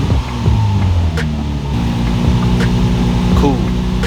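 A Nissan 350Z engine cranks and catches after a new fuel pump install, settling into a steady, close, loud idle with a rough start at the beginning.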